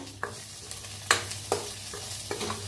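A spoon stirs turmeric, cumin powder, asafoetida and Kolhapuri red chilli powder frying in oil in a pan, a constant close sizzle punctuated by four or five sharp scraping strokes, no voices.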